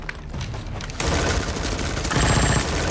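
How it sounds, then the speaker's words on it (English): Dense gunfire in a film battle, sustained rapid rattling shots with deep booms, growing louder and fuller after the first second, no talk. "The sound of gunfire fills the air"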